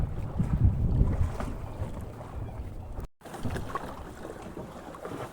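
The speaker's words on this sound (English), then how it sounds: "A bit more wind." Wind gusting around a sailboat off the North Brittany coast near the Isle of Bréhat, a rushing roar buffeting the microphone with water noise beneath, strongest early on, then a brief dropout before it continues.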